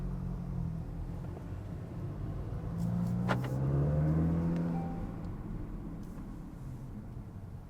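A Volkswagen MK8 GTI on newly installed lowering springs drives past, its engine rising to a broad swell mid-pass before fading back into a steady low road rumble, with no talking.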